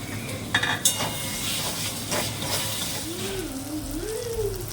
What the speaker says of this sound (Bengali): কম তেলে কি সুন্দর মশলাটা কষানো হয়ে গেল